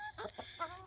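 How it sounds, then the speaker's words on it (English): A few soft clucks from hens and a rooster in a backyard pen, brief and faint. "These are our hens, and Red, you can tell him he's the big guy"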